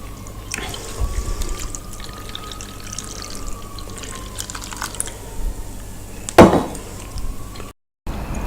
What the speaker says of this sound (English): I'm going to go ahead and pour some beer